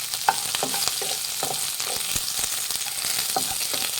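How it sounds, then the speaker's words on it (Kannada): Okra for Punjabi bhindi masala frying in a pan, a steady broadband sizzle broken by regular scraping and tapping from stirring, close and fairly loud with no voices. "ಇದೊಂದು 10 ನಿಮಿಷ ಏನಾದರೂ ಫ್ರೈ ಮಾಡಬೇಕು"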